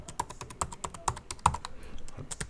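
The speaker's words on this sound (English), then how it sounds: "I feel like there's a lot less travel, but a bit more feedback from the keys" Typing on the keyboard of a 2021 Apple MacBook Pro 14-inch with M1 Pro, a close run of crisp, short key clicks at an uneven quick pace, with no talk over it.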